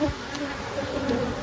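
Honeybees buzz steadily at an open hive after a Formic Pro treatment, a close, continuous insect drone with a few individual bees passing near.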